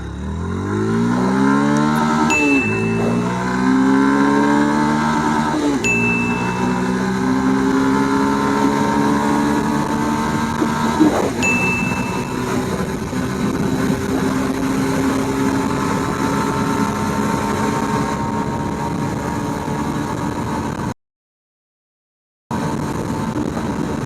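A Yamaha FZ-S V4 motorcycle accelerates hard from 0 to 100, its engine pitch climbing through several gears with brief drops at each upshift, loud and close with wind rush, then settling into a steady high-speed drone.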